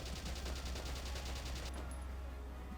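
Gunfire in the Valkyria Chronicles video game, a dense burst of rapid shots rattling steadily for about a second and a half, then giving way to quieter game ambience with a couple of faint high tones.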